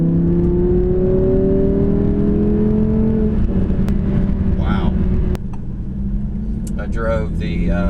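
Audi R8 V10 Plus sports car accelerating hard, a loud steady engine drone with rising harmonics as it pulls through the gears, with a brief quick shift near the middle and someone talking excitedly over it from inside the cabin.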